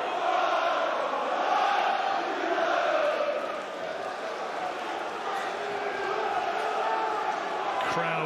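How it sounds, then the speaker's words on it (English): Boxing arena crowd during a fight, a continuous loud roar of many voices with rising excitement, steady throughout with a faint sharp knock near the end. "Crowd noise really building up"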